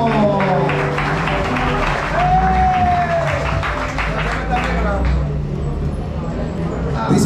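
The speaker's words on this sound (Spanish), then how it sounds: "El aplauso." Applause from an audience at a Varela family event runs throughout as steady clapping, with a voice talking over it and passing traffic noise underneath.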